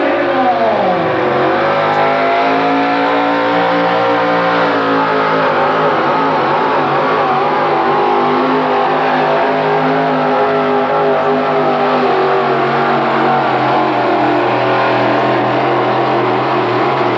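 A pulling truck's engine roars at a 1985 truck pull in Meadville, Pennsylvania, loud and close, one sustained revving note that climbs and holds steady, then drops slightly lower near the end.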